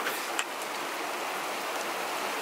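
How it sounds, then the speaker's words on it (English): Heavy rain pours down outside during a sudden downpour, a steady, dense hiss that fills the whole clip evenly with no speech over it. "you must be hearing so much of noise because it's starting raining cats and dogs"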